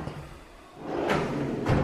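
A kitchen drawer or cupboard in a newly built house slides open or shut, giving a soft rolling scrape and a dull thump, close and alone in a quiet room.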